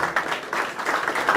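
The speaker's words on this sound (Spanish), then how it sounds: "Aplauso para recibirlo." Audience applause at a book presentation held in a school in Ica, Peru: steady, moderately loud clapping from a crowd filling the short moment without a break.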